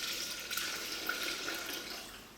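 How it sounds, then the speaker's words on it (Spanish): Water pours steadily into a rice cooking machine, a soft continuous splashing hiss with no breaks and no talk. "Me pide 500 gramos de agua, voy a poner el agua"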